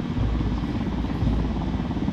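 A helicopter in the video game Ghost Recon Wildlands throbs loudly and steadily with a continuous rotor chop and engine drone, close and dominant, with no talk.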